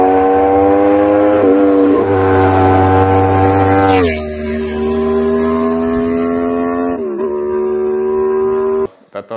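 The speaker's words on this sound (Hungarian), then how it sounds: "valahogy nekem az jobban tetszik az Apriliáknak a hangja" An Aprilia RSV4 Factory 1100 V4 superbike engine, idling then revved, its loud, close, steady drone rising and falling in pitch over several seconds before cutting off abruptly.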